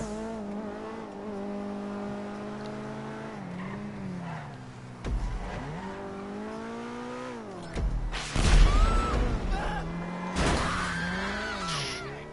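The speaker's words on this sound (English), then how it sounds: "I think this engine sound has been used for other sports cars." A sports car engine in GTA Online drones steadily, its pitch rising and falling through gear changes, with bursts of revving and tire squeal toward the end.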